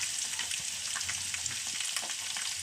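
Onion, carrot, and green and dried red chillies sauté in hot oil, a steady close sizzle with faint stirring scrapes throughout, no voices.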